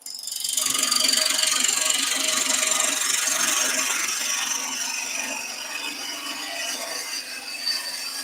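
A wood lathe spins a cabriole leg blank while a roughing gouge cuts, producing a continuous high, chattering tearing noise over the motor's hum, close and steady after a quick start, no speech.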